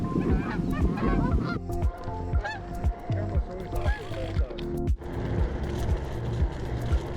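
Geese honk repeatedly and loudly at a riverside park along a trail, the calls overlapping in a busy rhythm with a steady hum of traffic underneath.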